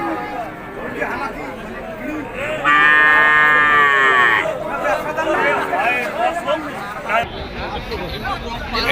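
A cow lets out a long, loud moo amid the steady chatter and murmur of traders at the Nilphamari cattle market, with other cattle sounds nearby.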